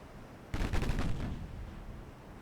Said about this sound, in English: I want you to target the Salt Lake City with armor-piercing lasers